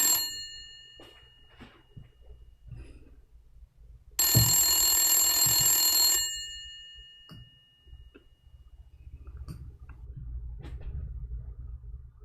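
A hardline telephone bell rings loudly in one sustained burst of about two seconds, with faint clicks and low background rumble before and after and no talking.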